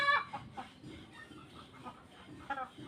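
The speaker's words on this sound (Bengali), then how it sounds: "বাড়ির পোষা মুরগি, ব্রয়লার মুরগি" A large home-kept broiler chicken clucks close by in a series of short, irregular calls, with quieter rustling background in between.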